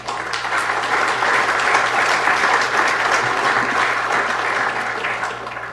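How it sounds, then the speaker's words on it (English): Audience applause at a city council meeting, sustained even clapping from a roomful of people lasting several seconds, loud and close over a low steady hum. "I believe that deserves a round of applause."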